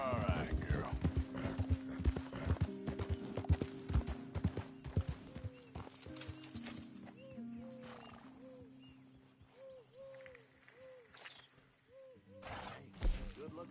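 A horse's hooves clip-clop in a rhythmic walk in Red Dead Redemption 2, thudding loud at first and then softening into quieter steady steps, with a few snorts or whinny-like calls and a voice talking over parts of it.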